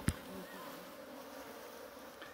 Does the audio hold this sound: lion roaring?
no